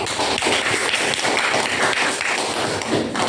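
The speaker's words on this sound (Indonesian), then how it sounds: "beri tepuk tangan untuk Willy" Scattered classroom clapping for a student who answered a teacher's question, a dense patter of hand claps and taps running steadily throughout at close range.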